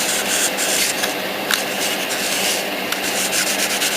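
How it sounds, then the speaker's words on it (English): Continuous close scratchy rubbing of wet sanding on a painted plastic model, steady and loud with small irregular strokes and no voices. "doing some quick wet sanding after the paint has set a bit"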